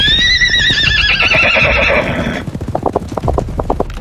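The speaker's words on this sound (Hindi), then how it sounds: "और तभी अचानक किले का द्वार खुलता है और एक सफेद घोड़ा बिजली की रफ्तार से बाहर निकलता है" A white horse bursts out of a fort gate, giving a loud, shrill neigh that trails off into a run of sharp, rhythmic hoofbeats galloping close by.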